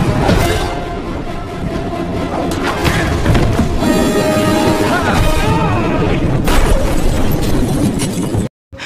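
A loud, rumbling explosion in an action film, with bursts and booms, rolls on over a dense action soundtrack, then cuts off abruptly near the end.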